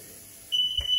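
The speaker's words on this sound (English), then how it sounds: "Set fire alarm off." After a half second of low background hum, a kitchen smoke alarm, set off by cooking turkey under a grill, lets out a shrill, piercing electronic beep that holds to the end.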